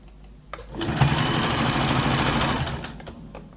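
Sewing machine stitching elastic with twin needles, a rapid mechanical whir that starts after a short pause, runs steadily for about two seconds, then stops, with a few faint clicks around it.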